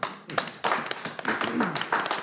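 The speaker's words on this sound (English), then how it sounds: "Our staff deserve a round of applause." A short round of hand clapping at a board meeting in honor of the staff, a handful of people clapping close by in an uneven burst, with a few individual louder claps standing out.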